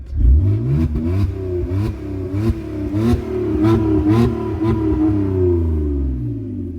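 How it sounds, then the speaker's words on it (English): A BMW E46 running with no exhaust fitted revs repeatedly, each blip rising in pitch before dropping back, loud and close with a raw, rattling edge and no talking. "one good thing of not having an exhaust, when you put your foot on the gas,"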